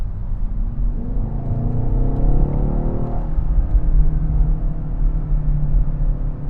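A BMW XM's deep, booming engine rumble fills a tunnel, with one rising rev early on before settling into a steady, throaty drone.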